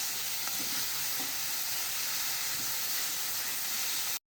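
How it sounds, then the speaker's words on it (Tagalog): Garlic, onion and tomato sizzle steadily in a hot pan, a close, continuous frying hiss with a few soft stirring scrapes, cutting off abruptly near the end. "Gigisa ko na."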